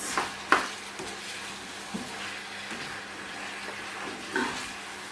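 Chicken gizzards sizzle quietly in a frying pan, a steady low hiss broken by a few soft clicks and a brief louder pop near the start.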